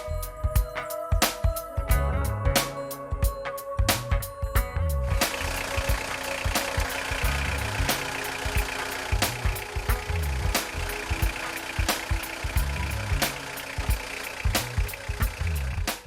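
A 2.2 HDi DW12 diesel engine idles at neutral with gearbox rattle, giving a steady knocking clatter with rapid rhythmic ticks over a low hum, fairly loud and close throughout.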